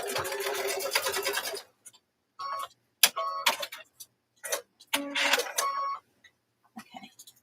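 A sewing machine stitches a zigzag seam on a lanyard, first as a steady mechanical whir of rapid stitches, then in short stop-start bursts separated by silence.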